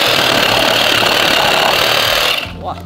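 A cordless electric saw cuts through a tree branch with a loud, continuous rattling buzz that holds steady for over two seconds before cutting off. A voice talks over it.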